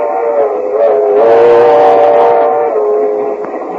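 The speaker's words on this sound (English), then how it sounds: "So we now find Mr. and Mrs. George Burns in a compartment on a train approaching Kansas City." Radio drama sound effect of a train travelling toward Kansas City, a steady rumbling run with a sustained whistle-like tone swelling and fading, heard alone without talk.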